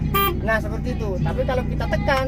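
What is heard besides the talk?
horn of Iveco 682 dump truck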